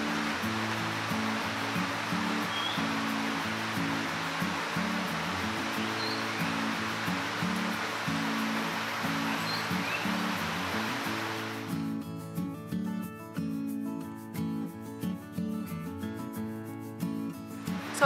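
A waterfall roars steadily near an outdoor barbecue cooking spot, a constant dense rush of falling water with background music underneath that takes over and largely masks the water for the last few seconds.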